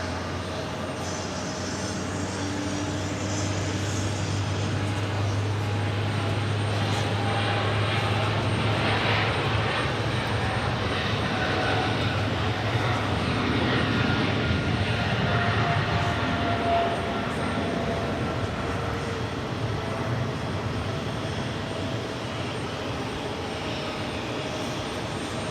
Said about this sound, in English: next takeoff is a American 777 at 300 ER.